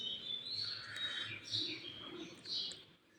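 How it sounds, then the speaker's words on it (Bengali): Birds chirp and tweet steadily around an early-morning village road, with high repeated calls carrying over a quiet background and no traffic. "শুধু পাখির শব্দগুলোই শোনা যায়, আর অন্য কিছু শোনা যায় না।"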